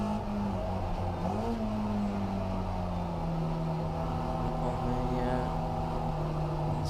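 Steady engine drone of racing cars lapping a circuit in a 750 Motor Club relay race as a Caterham comes through, a sustained hum that rises then settles, heard onboard and loud throughout.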